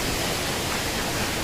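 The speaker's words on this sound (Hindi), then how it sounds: "देखो इतने ऊपर से पानी गिर रहा है," Vasudhara waterfall near Badrinath, water falling from a great height, gives a continuous dense roar that stays loud and even throughout, with no talking audible.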